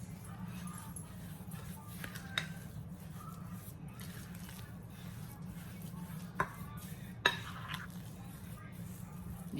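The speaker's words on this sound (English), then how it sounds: "Now, I'm gonna mix this up." A spoon stirring a meat sauce mixture, soft wet squishing and scraping under a steady low hum, with a few sharper clinks against the bowl.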